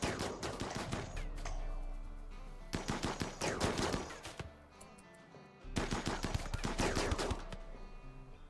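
Rapid automatic gunfire in the RimWorld Odyssey video game, loud bursts firing at enemy shields, several long volleys separated by a brief pause.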